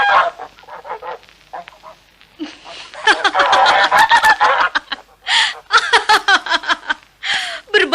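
Honking swans as a sound effect in a told fairy tale, a series of loud, nasal goose-like honks in bursts with short gaps between them, and a little laughter-like voicing mixed in.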